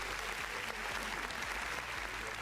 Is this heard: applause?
yes